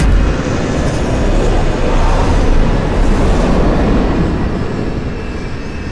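Cargo airplane touching down and rolling on the runway at an airport just before it closes, a loud, steady, broadband roar of jet engines and wind that stays close throughout and eases slightly toward the end.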